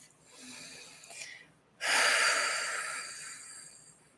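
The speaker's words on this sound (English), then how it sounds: "Taking a breath." A person in a relaxation exercise draws a slow inhale, then lets out a long, airy exhale that fades gradually, close and soft.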